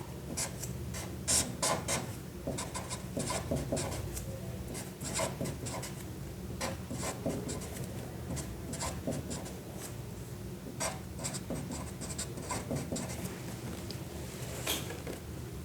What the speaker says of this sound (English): let me quickly write the reaction.